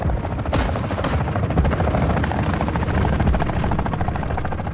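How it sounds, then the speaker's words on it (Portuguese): Helicopters flying overhead in the video game Call of Duty Warzone 2.0, a loud continuous rotor drone with sharp gunfire cracks and bursts punctuating it. "Esses helicópteros voando,"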